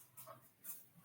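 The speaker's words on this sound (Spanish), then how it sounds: "es mi perrita que está con su pelota, quiere jugar" A small dog plays with its ball indoors, giving a couple of faint soft whimpers and snuffles, quiet and brief.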